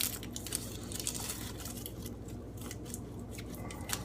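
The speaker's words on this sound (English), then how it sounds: "yeah, so again, same thing for the onion. Just cut around the bottom of it." A knife cuts around the root end of an onion, producing close, crisp, rhythmic crunching and snipping cuts that repeat steadily throughout, with no speech.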